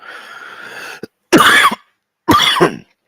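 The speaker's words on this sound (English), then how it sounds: "Excuse me if I'm coughing." Two loud, harsh coughs close to the microphone, separated by a short pause, following a brief stretch of quieter breathy noise.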